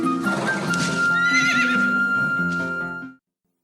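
A loud, close horse neigh rings out in a long, shaky whinny that rises and falls before cutting off abruptly.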